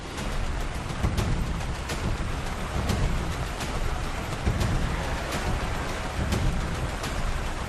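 Dense, steady roar of heavy monsoon rain pouring down in Kerala, southern India, loud and continuous with a broad hiss and low rumbling underneath.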